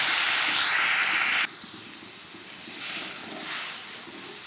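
Boiled masoor lentils poured into hot oil tempered with panch phoron give a loud, bright sizzling hiss that cuts off abruptly, followed by quieter bubbling and spitting.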